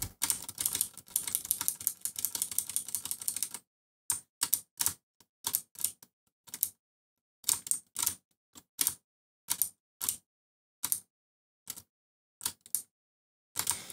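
Keys tapped on a keyboard to enter a numeric code in a video game menu, a quick burst of rapid clicks followed by a sparse, irregular series of single keystrokes separated by silence, close and crisp.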